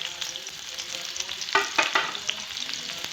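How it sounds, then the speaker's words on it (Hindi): Onions sizzle and fry in hot oil for a restaurant-style moong dal tadka, a steady crackling hiss broken by a louder burst of spatter and stirring midway, close and with no talk. "तेल गरम कर लिया है एंड उसी में मैं प्याज डाल रही हूँ।"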